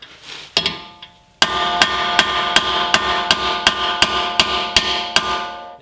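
A hammer taps ARP extended wheel studs out of a wheel hub, a loud close series of about a dozen sharp metallic ringing strikes in a steady rhythm, each one ringing on briefly.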